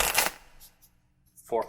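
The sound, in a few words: shuffling a deck of playing cards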